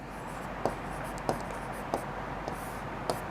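Pen writing an answer by hand on paper during a Class 8 Sanskrit lesson, a steady soft scratching with a few sharper taps at regular intervals, close and alone over a low room hum.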